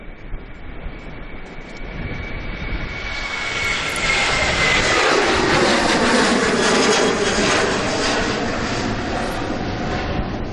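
A Ryanair jet departs Manchester Airport bound for Katowice, its engine roar swelling quickly and then holding as a loud, steady, broadband rumble with a high whine. No voices are heard.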